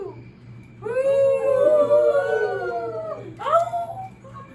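A person's voice imitates a great horned owl's call with long, drawn-out hooting glides that rise and fall, followed by a second shorter call, close and clear over a faint steady hum.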